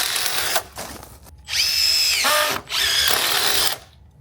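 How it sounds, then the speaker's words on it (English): A cordless power drill drives screws into deck joists framed over a concrete slab, with a short whir, then two long loud high-pitched runs, each slowing as the screw seats. "So Ant is now screwing these in"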